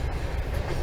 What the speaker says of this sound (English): Just on the train now.